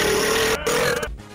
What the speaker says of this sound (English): I'm gonna get a real burp.